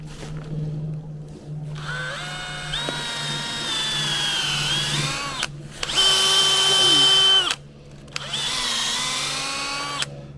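A power drill whines at high speed in several bursts, drilling a sap tap hole into a maple tree, pitch shifting as it bites into the wood, with brief pauses between runs and a low hum underneath.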